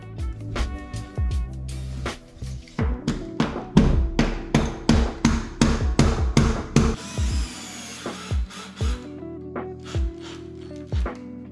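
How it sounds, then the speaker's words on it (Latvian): A hammer drill in hammer mode bores into plasterboard glued to a wall while a wardrobe is being fitted, giving a fast run of loud, evenly spaced impacts up close that ends in a brief grinding burst before tapering off. "tad uzslēdzam šitam te āmuru"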